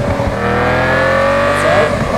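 Race car engine in a driving video game, a loud steady harmonic drone holding high revs with slowly shifting pitch throughout, close and continuous with no speech.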